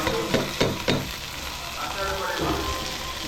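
Rice fries with spices in a pan, giving a loud, dense, hissing sizzle throughout, with a few quick spatula scrapes near the start before it settles into a steady crackle.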